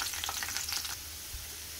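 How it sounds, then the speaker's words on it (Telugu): Garlic cloves drop into hot oil and fry with a crackling sizzle for about a second, then the frying settles to a quieter steady hiss, close by with no talking. "ఇప్పుడు ఆయిల్ హీట్ అయిన తర్వాత వెల్లుల్లి రెబ్బల్ని వేసేసుకోవాలి"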